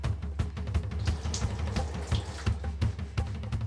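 Shower water runs steadily while a man soaps and scrubs himself clean, with close, continuous splashing and spatter and a few louder bursts as he moves under the spray.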